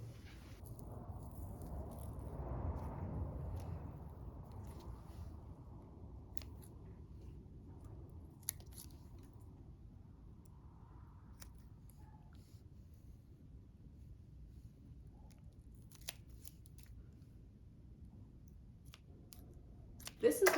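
Small garden scissors snip damaged leaves off a rescued clearance houseplant, giving a few faint, scattered clicks over a low steady background hum with no talking.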